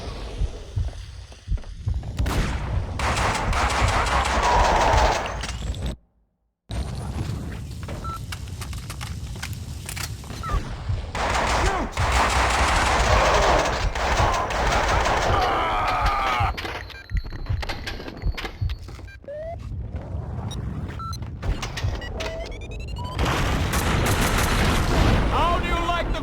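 Video game gunfire from Max Payne 2 rattles in dense, repeated bursts with loud impacts and a deep background throb, broken by one brief silence, with character voices speaking in between.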